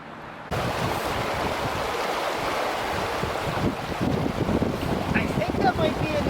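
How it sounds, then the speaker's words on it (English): Steady rushing flow of water outdoors on a rainy day, a broad continuous wash heard close with gusty wind buffeting the microphone and a few faint bird chirps near the end. "we got some water flow today too"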